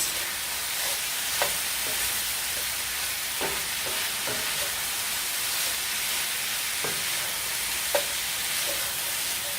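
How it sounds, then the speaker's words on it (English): Taco filling of vegetables and spices fries in a pan with a steady, close sizzle, broken by occasional scrapes and taps of a spoon stirring them around. "Stir this around and just let this cook until the veggies are as soft as I want them to be."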